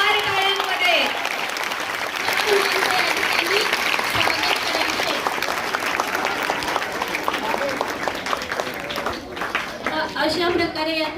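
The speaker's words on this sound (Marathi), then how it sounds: "जोरदार टाळ्यांमध्ये" Loud, continuous applause fills a school hall as a winning student group is announced at a Constitution Day quiz, with an announcer speaking over the clapping throughout.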